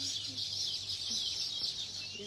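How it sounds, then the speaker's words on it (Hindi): Dense, continuous bird chirping on a prayer mountain, a steady high twittering chorus at moderate distance, with faint low background hum beneath it. "बहुत ज़्यादा चहचहाने की आवाज आ रही है।"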